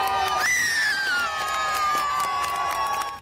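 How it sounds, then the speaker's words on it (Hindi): Onlookers cheer and shout loudly as forest department staff net a crocodile, a lively crowd roar with high excited voices and a few scattered claps, close and continuous throughout. "मगरमच्छ के जाल में फंसते ही वहाँ मौजूद लोगों ने तालियां बजाकर वन विभाग के कर्मचारियों का हौसला बढ़ाया।"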